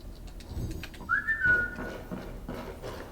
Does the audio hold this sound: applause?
no